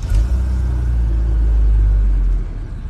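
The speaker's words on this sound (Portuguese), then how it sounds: "Carro funcionando" A 1993 Chevrolet Omega CD with a 3.0 six-cylinder engine idles with a loud, steady low rumble close by, easing off slightly near the end.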